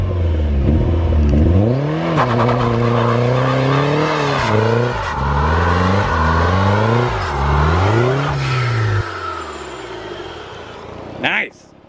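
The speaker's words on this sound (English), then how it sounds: "see if she can do a burnout" A turbocharged drift car revs hard during a burnout, its engine note climbing and falling in repeated loud surges before cutting off, with a brief sharp sound at the end.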